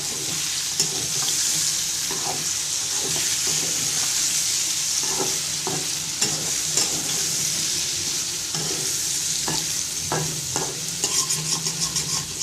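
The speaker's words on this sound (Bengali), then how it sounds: "এখানে পটলটা ভালো করে ভাজাই করছি।" Pointed gourd (potol) fries in a pan with a steady, close sizzle, broken by scraping and clinking as a spatula stirs it now and then.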